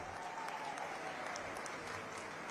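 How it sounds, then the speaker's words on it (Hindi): Steady, continuous crowd applause at a political rally in Haryana addressed by JP Nadda, a dense even wash of clapping that holds at one level throughout. "और एक बार नहीं कई बार आपने तालियां बजाई"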